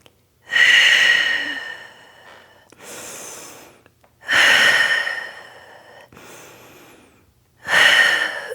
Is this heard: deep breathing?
yes